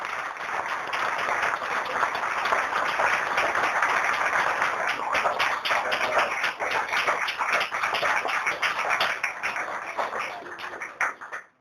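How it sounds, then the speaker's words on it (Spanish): A church congregation claps together, a dense, sustained burst of applause that holds strong for several seconds before thinning into scattered claps and stopping. "Dale un aplauso al Señor"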